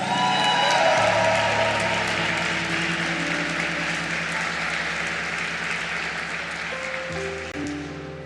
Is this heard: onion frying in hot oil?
no